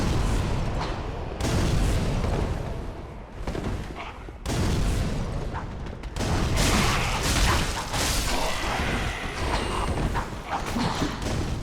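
Fiery explosions in Dark Souls 3, a run of loud, dense booms and bursts coming in heavy waves with brief lulls between them, close and continuous across the stretch.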